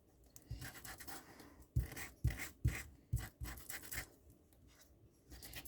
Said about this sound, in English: You can sand them as hard or as soft as you want.